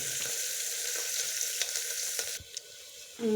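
Onions fry in a pan in a home kitchen, a steady soft sizzle with occasional stirring scrapes and clinks, fairly quiet and with no voices.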